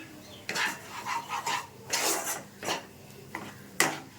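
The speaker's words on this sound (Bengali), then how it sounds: "ময়দাটা দিয়ে অনবরত নাড়বো" Flour stirred continuously in a pan for sandesh, soft scraping and rasping strokes of a spoon against the metal, repeated in irregular bursts, close and fairly quiet.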